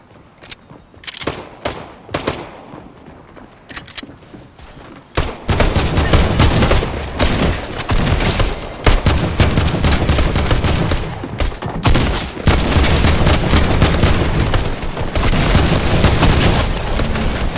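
Rapid gunfire in Fortnite: sparse scattered shots at first, then long loud bursts of fast repeated shooting with heavy booms that continue almost without a break.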